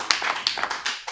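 A few quick, close claps ring out sparsely from a small audience at a studio recital of Hindi comic poetry, greeting poet Rajneesh Tripathi; brief and crisp, with no talking.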